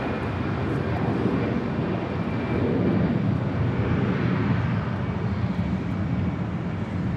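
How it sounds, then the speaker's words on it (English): An Avianca Airbus A320 in the LAX retro livery takes off at Los Angeles International Airport, a steady, loud jet engine roar that holds throughout and swells slightly in the middle. "This is Avianca 521 departing to San Salvador on the A320 in the LAX retro livery."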